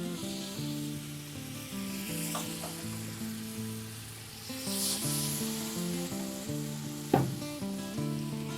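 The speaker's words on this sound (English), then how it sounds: "Now we're going to deglaze with, again, we're using apple cider vinegar." Apple cider vinegar hits a hot pan to deglaze it, a soft hissing sizzle with a few sharper bursts and scrapes, heard under steady background music.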